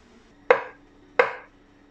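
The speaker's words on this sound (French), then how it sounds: "Donc j'ai émincé mon oignon." A knife chopping a quarter onion on a board for a sun-dried tomato risotto: two sharp, close cuts about 0.7 seconds apart, each dying away quickly in a quiet kitchen.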